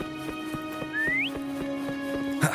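Player whistling to call a horse in the video game Wuthering Waves: a single short rising whistle over a quiet game soundscape with faint rhythmic clip-clop-like taps.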